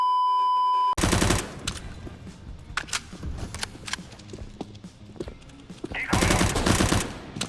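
Loud automatic gunfire in Counter-Strike: Global Offensive, with dense rapid bursts at the start and end and scattered single shots and game clatter between them, after a steady tone at the opening.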